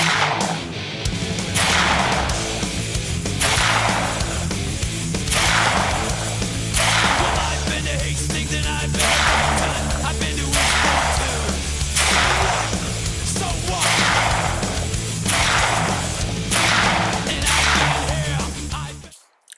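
A rapid series of loud Glock pistol shots fired with a factory magazine, about a dozen sharp reports spaced roughly a second and a half apart over a steady rumbling background.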